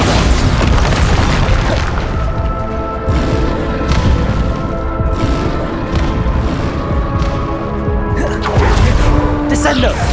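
Bombarda spell blasts in the Hogwarts Legacy video game, booming explosions layered amid a dense, continuous roar of spell effects and music, loud throughout.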